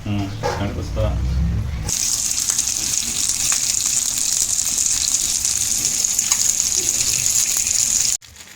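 Water gushes into a hot pan of whole frying fish, a loud sustained hiss and rush that starts abruptly after a short stretch of kitchen noise and holds steady for several seconds before cutting off.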